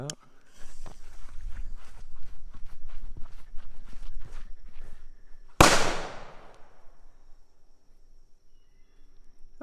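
A small triangle firecracker goes off with one sharp, loud bang that decays quickly. Before it comes a stretch of faint shuffling and rustling.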